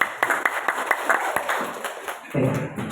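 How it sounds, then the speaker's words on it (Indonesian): Audience at a primary school curriculum workshop clapping in sharp, uneven individual claps, fairly close, with a voice and some murmuring mixed in as the clapping thins out. "Tepuk tangan buat kita semua."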